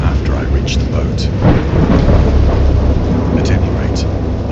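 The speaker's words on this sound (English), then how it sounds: "I heard peals of thunder" Deep rolling thunder rumbles steadily through a storm in the video game Dagon, with rain hiss beneath and a few brighter cracks breaking through the loud, continuous roar.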